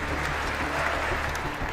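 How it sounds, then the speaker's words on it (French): Thick, steady applause rolls through the US Capitol chamber for Ukraine's President Zelensky, a continuous close wash of many hands clapping. "Plusieurs minutes d'applaudissements"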